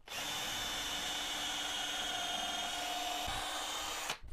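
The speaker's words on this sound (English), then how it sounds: "We'll drill a pilot hole and glue and screw it onto the next block of wood." A power drill boring a pilot hole into a block of wood, one steady high-pitched whine held for about four seconds before cutting off abruptly, close and alone.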